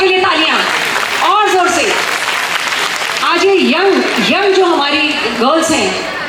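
Crowd applause at a PS Foundation Women's Day event swells as a steady, broad wash that fills the whole stretch, with a voice talking loudly in Hindi over it throughout.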